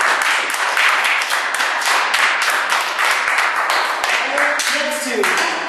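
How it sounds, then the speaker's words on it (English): An audience applauds, dense and loud clapping that holds steady throughout, with voices briefly audible near the end. "give us a round of applause"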